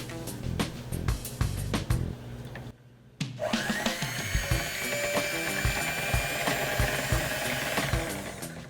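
An electric hand mixer whirs steadily on low speed as it beats cake batter, with a rattling mechanical hum that stops briefly and then starts again and runs continuously.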